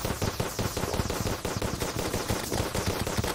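Rapid, dense gunfire crackles in the video game Terraria during the 1.4 update's dungeon, a fast stream of loud shots with no talk.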